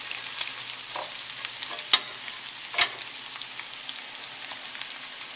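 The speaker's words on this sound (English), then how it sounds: "oil on a pan and then chicken and then half of the onion. Then make them like this golden color." Chicken and onion frying in oil in a pan, a steady close hiss of sizzling with a few sharp clinks and scrapes from stirring.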